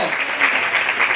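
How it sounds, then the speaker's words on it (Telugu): A church congregation claps together in praise during a testimony, a short burst of dense, loud applause with no voices. "దగ్గరగా చప్పట్లు కొడుతూ దేవుడు మహిమపడతాం."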